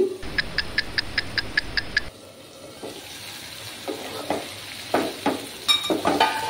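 Spice masala of cumin, coriander and Kashmiri chili powder with a little water cooks in a pan. A quick run of regular tapping gives way to irregular scraping stirs over a low sizzle.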